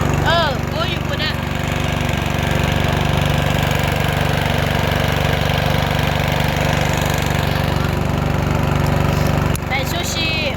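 Boat motor on a crossing of the Mekong river, a loud steady engine drone running throughout with close, mechanical knocking character, while voices talk over it.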